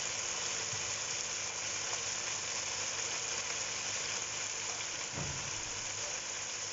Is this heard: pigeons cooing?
no